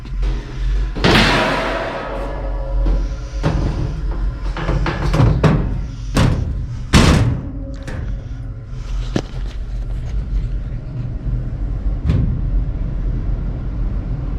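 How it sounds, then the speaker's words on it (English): A furnace's sheet-metal door panel is fitted back into place on an old unit, giving several loud clanks, thumps and rattles at irregular intervals, up close in a quiet room. "And we'll put the door on."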